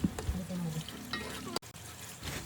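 A spoon stirs fish curry (chepala pulusu) as it cooks in a pan, with a soft sizzle under the scraping strokes. The sound is close and fairly quiet, with a faint voice in the background.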